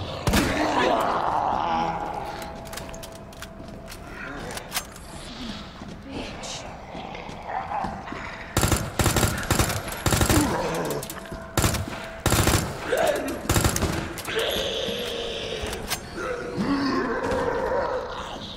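Submachine gun fire in Resident Evil 2, with rapid bursts of shots crackling loudly in clusters, mixed with creature growls and game noise while someone talks over much of it.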